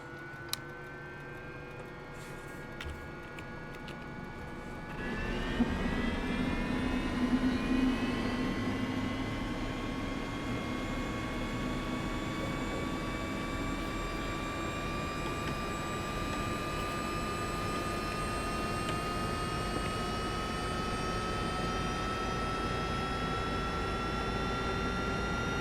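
An aircraft's left engine starts and runs up on the ground at Starship, Bonanza or similar small plane setting, its tone rising into a steady, loud drone with climbing harmonic whine that holds throughout.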